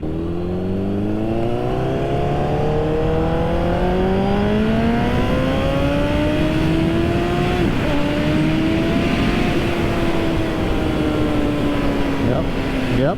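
Motorcycle engine on a July ride, droning steadily up close while its pitch climbs and dips through gear changes, under a constant rush of wind.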